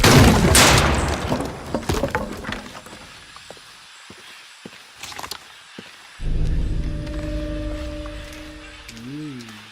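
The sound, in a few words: shotgun fire in the video game Shadow of the Tomb Raider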